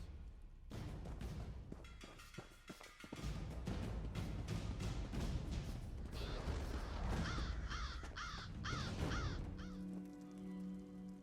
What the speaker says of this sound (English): Pay the crows no mind.